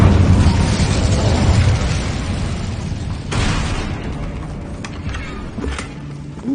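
An Incendio fire spell in Hogwarts Legacy bursts with a loud, booming whoosh that slowly fades into a crackling roar, with a few sharper pops near the end.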